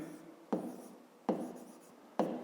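A pen or pencil writes on paper while a school maths exercise is worked out: three quiet, scratchy strokes a second or so apart, close and otherwise silent.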